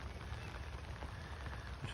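Rain falls in Currumbin Valley, a soft, steady hiss of drops on surfaces that stays faint and even throughout with no voices.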